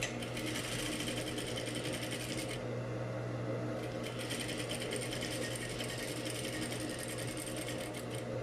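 A sewing machine runs steadily, stitching the top seam of a double-welt buttonhole-style pocket, its fast mechanical whir continuous and close throughout, with a brief dip in the high rattle partway through and no talking.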